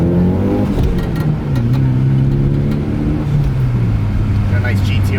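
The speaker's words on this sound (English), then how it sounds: "Gotta just rev it up a little high." A Nissan Skyline with a manual clutch revs while driving. The engine drone rises, then settles into a steady mid-pitched tone, loud and continuous with road noise. A voice talks over part of it.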